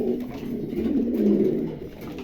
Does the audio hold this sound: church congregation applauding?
no